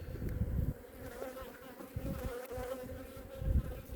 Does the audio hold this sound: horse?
no